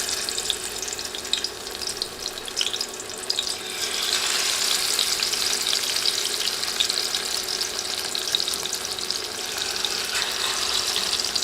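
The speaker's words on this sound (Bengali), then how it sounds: "তেল ভালোভাবে গরম হয়ে গেলে এবার মাছের পিসগুলো দিয়ে দিচ্ছি।" Pieces of fish laid into hot oil sizzle and crackle steadily, the frying growing denser and louder after a few seconds and continuing close and unbroken, with no voices.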